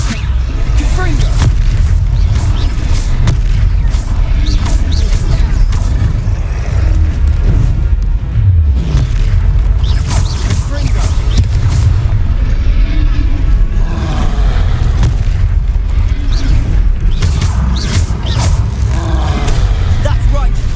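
Fiery Confringo explosion spell cast in the Hogwarts Legacy video game, heavy booms and rumbling blasts rolling through a loud, dense battle soundscape for the whole stretch.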